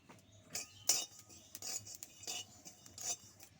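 Black cumin seeds being dry-roasted in a hot wok, with a spatula scraping and stirring in repeated short strokes and a faint rattle of seeds between them, close and fairly quiet.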